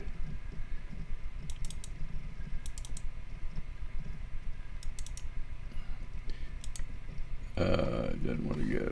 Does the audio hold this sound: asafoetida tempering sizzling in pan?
no